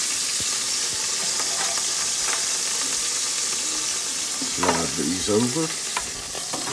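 Bacon-wrapped, cream-cheese-stuffed venison backstrap sizzles steadily in a hot pan, a loud continuous fry with a few clinks and scrapes as pieces are shifted; a voice speaks briefly over it.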